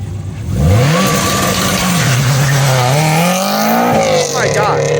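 At a car meet, a car engine revs hard nearby, its loud rising and falling roar climbing in pitch over several seconds, with excited voices talking over it.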